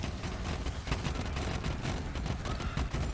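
Moze's grenades in Borderlands 3 go off in a relentless chain of explosions and crackling blasts, loud and dense from start to finish, without any speech.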